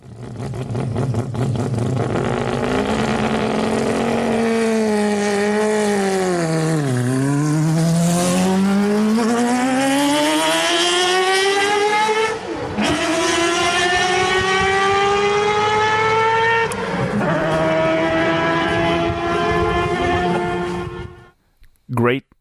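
Recorded car engine played back, revving hard with repeated rises and falls in pitch like gear changes under acceleration, loud and continuous for about twenty seconds before cutting off abruptly.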